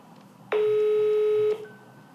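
A single steady telephone ringback tone on an unanswered call, lasting about a second, clear and loud against a quiet background.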